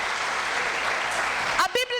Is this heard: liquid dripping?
no